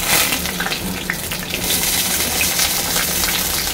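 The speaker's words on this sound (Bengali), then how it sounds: "বেগুনগুলোকে আমি লাল লাল করে ভেজে নেব।" Eggplant slices fry in hot oil in a Bengali home kitchen, giving a continuous, dense sizzle that stays loud and close for several seconds with no talk.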